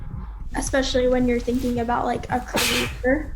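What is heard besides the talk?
sneeze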